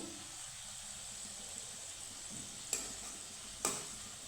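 Khaja pastries fry quietly in hot oil, a soft, continuous bubbling sizzle broken by two sharp clinks as the pieces are flipped over.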